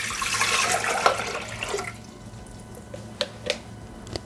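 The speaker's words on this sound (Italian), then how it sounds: "Iniziamo la ricetta mettendo all'interno del boccale l'acqua." Water poured into the jug of a Thermomix (Bimby) kitchen machine, a steady splashing stream for about two seconds, followed by a few faint drips in a quiet kitchen.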